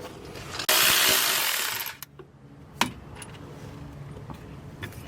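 Power tool backing out a coilover shock bolt, one loud close burst of about a second and a half, followed by quiet metallic clinks and taps.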